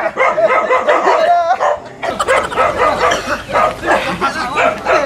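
A dog barks in repeated close, loud bursts with yips and whimpering tones, mixed with a person's voice throughout.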